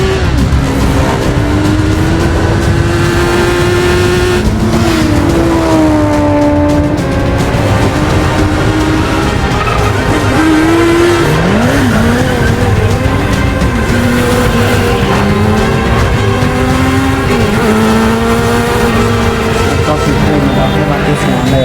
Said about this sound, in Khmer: នៅពេលគាត់ជិះម៉ូតូដេញគ្នានៅក្នុងទីក្រុងប៉ារីស